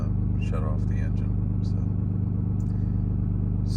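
A Ram 2500 pickup's Cummins diesel engine idles in a steady, low, droning rumble, close and continuous, with a brief voice heard over it near the start.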